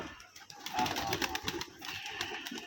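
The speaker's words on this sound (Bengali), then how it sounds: "এখন কবুতরগুলো খেতে দিচ্ছে দেখবো" Rajshahi Giribaz pigeons being fed at a farm flutter and coo nearby, with soft wing flaps and scattered pecking sounds over a low outdoor background.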